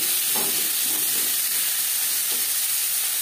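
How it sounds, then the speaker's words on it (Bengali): Chopped onion and tomato sizzle hard in a little hot oil where cumin has just fried, for a rui fish curry with winter beans; a constant bright hiss with a few soft stirring knocks, no talk. "15-20 সেকেন্ড জিরে ভেজে নেওয়ার পর দিয়ে দেবো পেঁয়াজ কুচি, টমেটো।"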